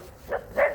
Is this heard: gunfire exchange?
no